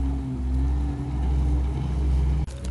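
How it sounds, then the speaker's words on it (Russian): A police patrol motorboat on the water in Germany, its engine a steady, close low drone that holds throughout with a brief dip near the end and no speech. "Ну а вот и тот катер, о котором я говорил, полицейский, который здесь патрулирует"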